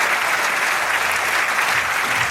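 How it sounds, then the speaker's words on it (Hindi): Loud, dense applause from an audience welcoming guests and alumni at a program, steady crowd clapping with no breaks. "दोनों हाथ खड़े करके जोरदार तालियों के साथ"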